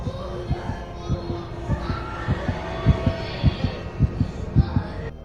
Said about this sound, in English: just this sheer suspense of a stethoscope on a child's heart and listening to the heartbeat